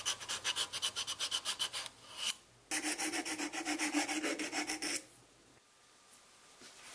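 Wood being sanded on a drum sander for concave surfaces, heard as rapid rhythmic rasping strokes, then a steadier continuous grinding rub that stops abruptly, close and alone.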